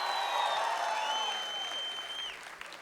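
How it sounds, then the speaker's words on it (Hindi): A crowd at a Taare Zameen Par fan meet bursts into loud, dense applause for Aamir Khan, with sharp whistles rising over the clapping before it begins to fade. "एक बार आमिर खान सर के लिए जोर से ताली बनती है।"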